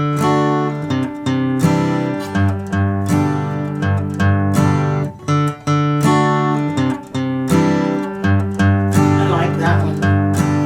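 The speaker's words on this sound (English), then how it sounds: "I'm playing the bass or root note of the chord twice, followed by 1 down strum on the D." An acoustic guitar plays, picking the root bass note of each chord twice and following it with a down strum, in a steady, bright, close-up rhythm with no voices.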